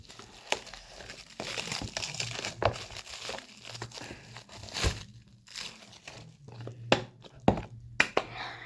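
Packaging crinkles and crumples close by as a headphones box is opened. The crackling handling noise is steady at first, then breaks into sharper rustles, taps and thuds near the end.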